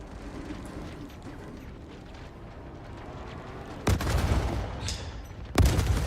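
Turret gunfire in the space game Star Citizen, with low rumbling background and two loud bursts of firing, the first lasting over a second and a shorter one near the end.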